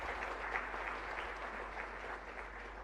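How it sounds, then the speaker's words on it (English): Steady applause from a crowd at a law university convocation, continuous clapping with no breaks, heard at a moderate distance over a low hum. "A big round of applause to all those."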